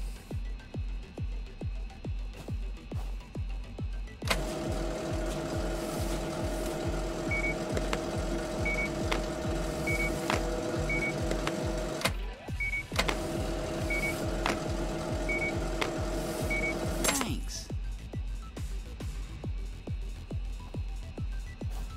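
A party bus in Gas Station Simulator rumbles steadily for several seconds with a repeating reversing-style beep, briefly pauses, resumes, then cuts off as it leaves, over a rhythmic background thumping.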